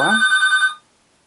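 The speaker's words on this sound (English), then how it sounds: "I'll have to answer that phone later." A telephone bell rings briefly indoors, one short trilling burst of rapid electric bell strikes lasting under a second before cutting off into quiet.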